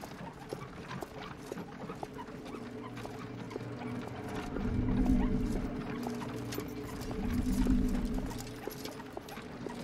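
Horse hooves clip-clop in an animated show, a soft, steady run of light knocks at a walking pace, faint and close, swelling twice midway.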